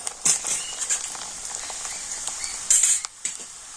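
Sago pearls fry in hot oil with a close, continuous sizzle, broken by a few louder bursts of spattering and faint stirring clinks.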